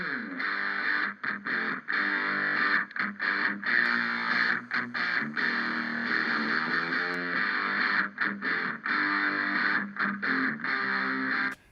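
An electric guitar plays a sustained, lightly distorted riff through a 50-millisecond echo delay set fully wet, giving a doubled, spread-out sound that runs continuously with short gaps between phrases.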